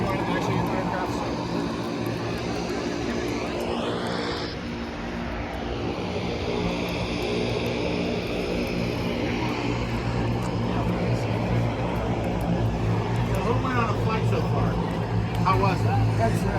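A propeller aircraft engine drones steadily and fairly loud at an aviation expo, with a rising whine partway through, while people talk over it.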